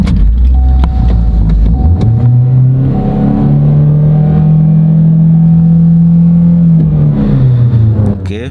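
A car engine due for a tune-up revs hard, then hangs at a high idle with a steady loud drone before dropping back down, close by with no talking.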